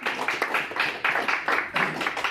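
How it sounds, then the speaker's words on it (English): Audience clapping in a classroom demonstration, several bursts of dense, close applause rising and falling in a steady rhythm. "give them a clap"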